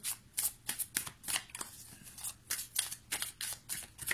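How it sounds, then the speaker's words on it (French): Tarot cards are shuffled in quick, regular riffles, each a crisp snapping burst, repeating about three times a second up close in a quiet room. "On va prendre 6 cartes."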